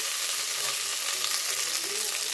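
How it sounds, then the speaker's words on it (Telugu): Okra sizzles steadily in a hot pan with turmeric, an even, dense frying hiss with no pauses and no voices. "కొంచెం ఫ్రై అవ్వనిద్దాం."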